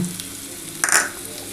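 Teasel gourd frying with poppy seeds in a pan gives a soft, steady sizzle, with a brighter burst of hissing and stirring near the middle before it settles back to a low crackle.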